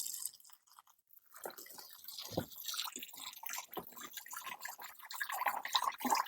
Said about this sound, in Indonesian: langkah selanjutnya itu ya kita siram ngocor ya teman-teman